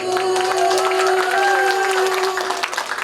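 An audience at the Humbang Idol 2025 singing contest applauds steadily for about three seconds, a dense wash of clapping that holds loud and even, with a sustained sung or musical tone running beneath it.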